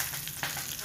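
Fresh curry leaves sizzle in a hot tempering of mustard seeds and hing, a soft, steady crackle with a faint pop in a brief moment.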